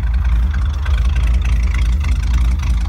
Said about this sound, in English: Let's walk around the back so you can hear the exhaust.